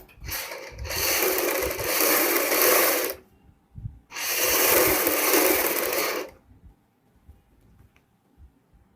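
A sewing machine stitches the shoulder seam of a kurti, running in two steady whirring bursts of about three and two seconds, with a short pause between them and quiet afterward.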